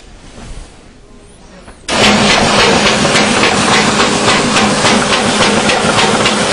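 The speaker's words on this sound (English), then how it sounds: "up here it is trimming that side tractor feed off" Continuous-form paper cutting machine trimming the tractor-feed strip off the edge of the paper: quiet mechanical background, then a loud, steady rushing, rattling whir kicks in and runs on with a faint rhythmic pulse.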